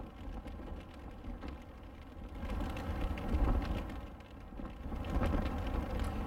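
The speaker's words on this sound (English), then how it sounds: "There is heavy rain and a strong breeze today" Heavy rain falls steadily on a Second World War era airbase in Caron, with a strong breeze adding a broad, continuous wash that swells and eases over several seconds; no voices.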